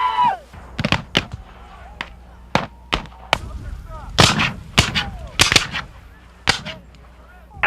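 Artillery booms and gunfire ring out at a Civil War re-enactment in Windsor, Missouri, as a series of irregular sharp blasts, some near and some farther off, against outdoor background noise.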